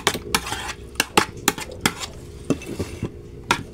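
A utensil scrapes and stirs ingredients in a pan with a series of sharp, irregular clinks and scrapes at close range, over a soft steady background with no talking.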